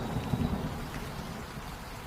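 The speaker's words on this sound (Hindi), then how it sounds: "देखो दोस्तों, बारिश हो रही है।" Steady rain falls in a forest after a hot dry spell, a continuous even hiss of drops with a soft low rumble underneath, constant in level throughout, with no voices.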